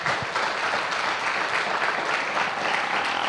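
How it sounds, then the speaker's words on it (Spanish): A church congregation claps steadily during a Spanish-language worship service, a dense, even wash of many hands that fills the room for a few seconds at moderate loudness. "Dele un aplauso al Señor."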